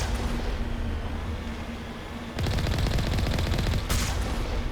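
Gunfire rattles in Mass Effect, a dense background din that turns into a rapid, loud burst of repeated automatic shots partway through and keeps going to the end.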